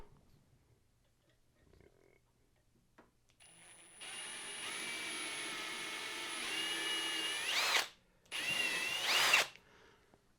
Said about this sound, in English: I'll drill the rest of the holes